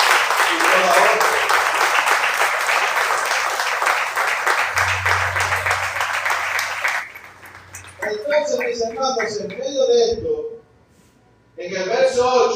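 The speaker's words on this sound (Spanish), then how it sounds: "Dale un aplauso a Él" A church congregation claps in a dense, loud wash for about seven seconds, then the applause stops and a preacher's voice takes over, with a brief quiet gap before he continues speaking.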